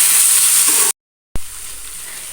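Vegetable masala stirred with green chili sauce in a hot pan, giving a steady, loud sizzle that cuts to silence for a moment, then resumes more softly.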